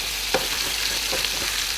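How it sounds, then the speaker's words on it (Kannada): Kutti anjal fish frying in hot oil in a pan, a steady close sizzle throughout with a few soft clicks and stirring taps, no voices. "ನೋಡಿದ್ರಲ್ಲ ಇವತ್ತು ನಮ್ಮ ಕುಟ್ಟಿ ಅಂಜಲ್ ಮೀನು ಫ್ರೈ ಹೇಗಾಗಿದೆ ಅಂತ ನೋಡಿ"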